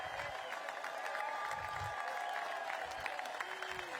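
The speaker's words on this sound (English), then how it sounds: "How about a round of applause for the legend Doc B in the house tonight" Crowd applause with some cheering at a baseball national championship celebration honoring a legendary fan, steady and dense throughout, a broad wash of clapping filling the whole stretch.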